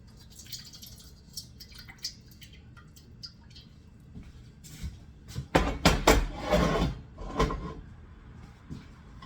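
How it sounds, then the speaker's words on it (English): Excess cooking oil poured off a pan while making blue cheese patties gives a few seconds of close, splashy pouring and dripping with clattering cookware, loudest in the middle of the clip, after quieter kitchen clinks. "I put a little too much oil on it. So let me pour it off."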